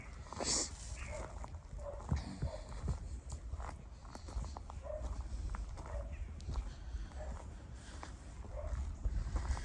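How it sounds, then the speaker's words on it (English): In the cemetery grounds of St Bride's Church in Douglas, Scotland, a dog barks repeatedly from some distance, the barks mixed with footsteps and outdoor background noise. "A barking dog."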